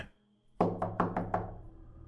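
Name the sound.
heavy knocks on a front door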